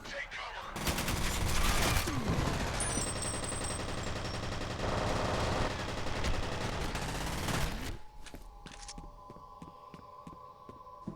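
Rapid gunfire rattles in F.E.A.R. as grenades are shot out of the air, a loud dense burst of shots lasting several seconds before cutting to a quieter humming, pulsing tail.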